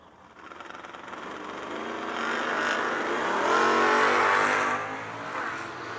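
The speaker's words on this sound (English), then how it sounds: "Ray Barlow out there in the Mustang, dialed 965 out of Peach Bottom, PA" Drag racing launch of a Mustang against a Camaro at a strip, loud engines roaring and revving as the cars pull away, swelling then easing.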